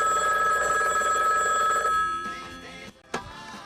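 A telephone bell rings in a home, a bright electronic trill that sounds steadily, then cuts off and leaves a quiet room with a brief knock or click.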